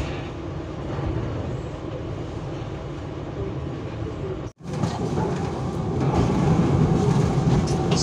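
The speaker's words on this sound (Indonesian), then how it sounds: "kereta api Jayakarta telah tiba di tujuan akhir stasiun Pasar Senen" The Jayakarta train arrives at Pasar Senen station in Indonesia, rumbling along with a steady low roar, cut by a brief moment of silence, then continuing to roll with faint rattling.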